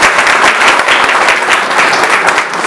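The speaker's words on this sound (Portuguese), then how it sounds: "Salva de palmas a José" Dense, loud clapping from an audience at a Father's Day tribute gathering, honoring a man named José, a steady wash of many hands that holds through without a break.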